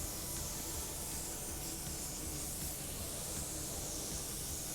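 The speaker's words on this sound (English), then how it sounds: "I'm coming in with my second coat of clear coat" A spray gun hissing steadily as it lays a second coat of clear coat over metallic gray paint, a continuous close airy spray with no pauses or voices.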